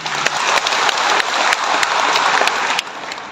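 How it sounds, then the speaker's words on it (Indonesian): A crowd at a public gathering in Bandung claps, a steady dense applause with a few sharper individual claps standing out. "Boleh tepuk tangan."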